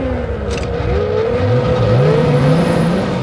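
A Ferrari engine in a film scene hums and revs close up, rising in pitch through gear changes with a steady, loud motor drone throughout.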